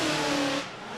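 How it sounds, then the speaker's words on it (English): Ford Mustang drift car engine running rough with a misfire during a Formula Drift battle, a loud buzzing engine tone that holds for about half a second before abruptly dropping away. "I'm hearing a little misfire there coming from Heischman."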